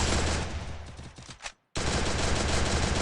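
Counter-Strike gunfire: rapid, dense automatic bursts, loud and close, broken by a sudden brief silence before the firing resumes just as hard.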